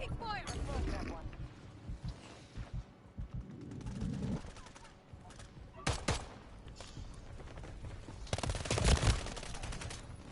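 Modern Warfare 3 gunfire, with bursts of rapid automatic shots and several sharp volleys of varying loudness across ten seconds, mixed with game noise and someone talking.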